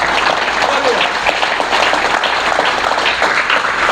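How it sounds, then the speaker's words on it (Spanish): Church congregation applauding steadily and loudly throughout, a dense wash of clapping from a large crowd at a religious service in Mexico. "Denle un aplauso a papá Dios"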